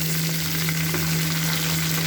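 Potatoes fry in a pan of oil that has just cooked prawns, a steady, loud, continuous sizzle with no talking over it.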